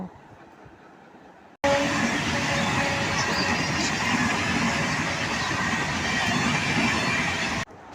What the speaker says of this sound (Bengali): তো একটা ট্রেন চলে আসলো